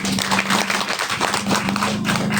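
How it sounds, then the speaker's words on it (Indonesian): An audience claps for Mas Andro at an automotive chat event, dense and steady applause filling the whole short stretch at close range. "Boleh tepuk tangan dulu dong buat Mas Andro"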